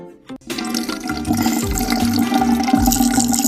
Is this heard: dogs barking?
no